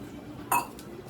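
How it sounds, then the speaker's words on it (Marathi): A small metal pot being handled while making tea gives a single short, bright clink, close and faint against a quiet kitchen background. "तर चहासाठी छोटं भांडं"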